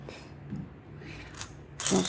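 Coins drop into a piggy bank, with a few faint metallic clinks spread out and then a brighter, louder jingle of coins landing at the end.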